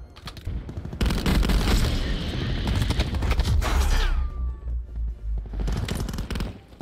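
Rapid automatic gunfire in Call of Duty Black Ops 4, dense loud bursts of shots with booming impacts, a brief pause, then more firing.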